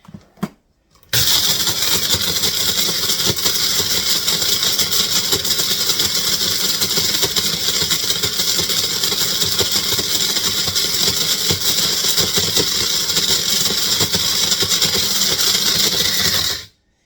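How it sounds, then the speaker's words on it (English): A small Magic Bullet blender chopping sweet potatoes whirs loud and steady for about fifteen seconds, a constant buzzing motor with chunks rattling inside, after a couple of short clicks. "I'm using my magic bullet"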